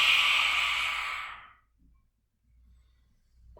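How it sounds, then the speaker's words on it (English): A long, breathy exhale during a yoga breathing exercise, close and clear, fading out after about a second and a half, followed by near silence. "Inhale, exhale."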